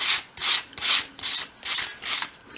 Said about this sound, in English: So I'm sanding a little bit more along that wider side.